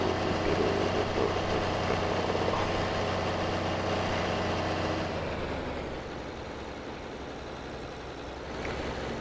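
A tractor engine idles in a farming video game with a steady low rumble that drops to a quieter hum partway through and then picks up slightly near the end, with no voices.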